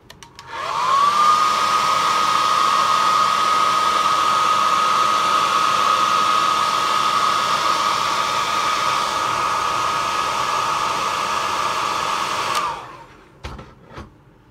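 Hand-held hair dryer blowing on the freshly white-painted eyes of a worn hard fishing lure, a loud steady whirring rush with a constant whine that runs about twelve seconds before clicking off, followed by a few small knocks.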